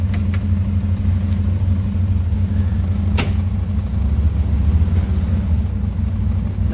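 A Can-Am Sport XRC side-by-side runs after being put into gear, giving a steady, loud mid-pitched engine idle with constant low rumble and one brief sharp click partway through, no talking.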